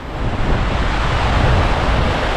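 River water runs high during Typhoon Ramil in Maria Aurora, Aurora, a loud, steady broadband rushing roar with wind buffeting the microphone and no talk over it.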